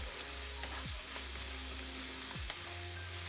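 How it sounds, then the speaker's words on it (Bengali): Dried fish is stir-fried in a pan for an eggplant dish. A continuous close sizzle runs beneath repeated scraping strokes of the spatula, with no talk. "এবার একটু ভালো করে নাড়াচাড়া করে নিচ্ছি, মানে বলা যায় একটু কষিয়ে নিচ্ছি আর কি, শুটকিটাও একটু ভাজা ভাজা হয়ে যাবে।"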